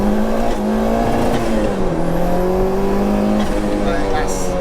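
Peugeot 205 GTI with a 2.1-litre stroker turbo engine making 315 bhp, accelerating hard on boost; loud, sustained engine note climbing through the revs with a shift, heard from inside the car.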